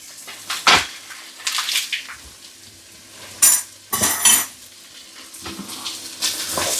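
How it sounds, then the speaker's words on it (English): Diced potato, celery, leek and a knob of butter stirred in a soup pot alongside onions, heard as intermittent scraping and clattering strokes of a spoon against the pot over a faint sizzle, close up. "Stir this until the butter is melted down."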